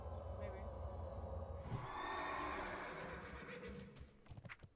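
A horse neighs in World of Warcraft, a mid-loud call blended into a steady wash of game ambience, with a few sharper knocks near the end.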